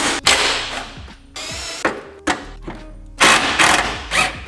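A ratchet wrench works a 10mm bolt loose under a Toyota Supra, close-up bursts of rapid clicking separated by short pauses and metallic clanks.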